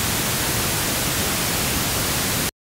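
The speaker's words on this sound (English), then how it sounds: "And if I go to the pink noise," Pink noise test tone generated by mastering software, a loud, steady rushing hiss with more weight in the low end than white noise, playing alone for about two and a half seconds, then stopping abruptly.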